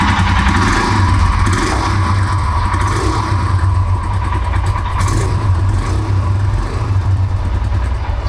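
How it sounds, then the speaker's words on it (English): A Royal Enfield Scram 411 motorcycle engine idling steadily with a low, even thumping exhaust note, close and continuous throughout with no talk. "let's hear the exhaust note of this one"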